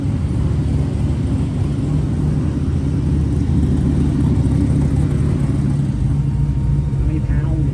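A twin turbo race truck engine runs on a dyno with a loud, steady, dense roar and constant low rumble throughout, close and unbroken.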